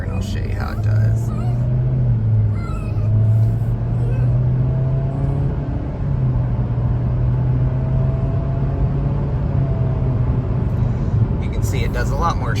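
A 2023 Nissan Kicks SR accelerating at half throttle, with a steady engine drone that rises in pitch, drops at a gear shift and climbs again, heard from inside the cabin with road rumble underneath.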